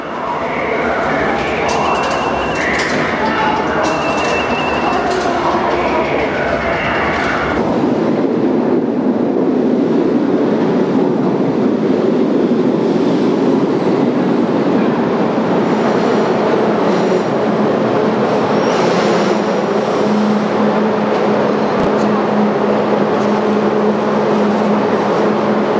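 A subway train heading into Penn Station rumbles loudly, with metallic screeches early on, then a heavy steady roar of the cars moving along the tracks.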